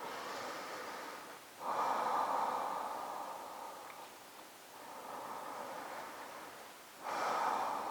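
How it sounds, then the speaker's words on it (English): Slow, deep breathing during a yin yoga stretch, with three long airy inhale-exhale swells close to the mic and no talking. "Let's take another deep breath or so."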